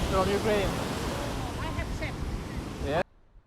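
Wind buffets the microphone over a roar of ocean surf at a beach in Cascais, Portugal, with surrounding cliffs, while a voice speaks on top, then the sound cuts off abruptly.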